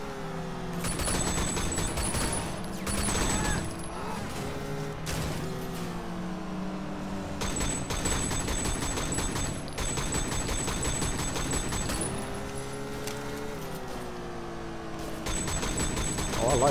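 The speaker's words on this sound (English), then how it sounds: "they shoot out the window" Rapid bursts of automatic gunfire fire from a car window during a chase in Sleeping Dogs: Definitive Edition, repeating in clusters over a droning, shifting car engine.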